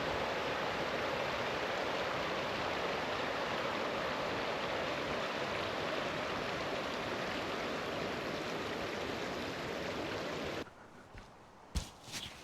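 A river flowing steadily through a frozen Scottish winter campsite, a loud continuous rush of water that cuts off near the end, leaving a few faint knocks and handling sounds.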